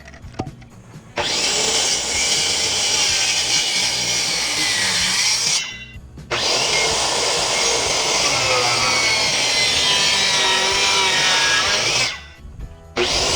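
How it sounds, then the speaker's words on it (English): A saw cuts a green treated landscape timber to length for a parking pad border, with long continuous loud rasping passes broken by two brief pauses, heard without talking. "I started on the end and cut the timber to the correct length."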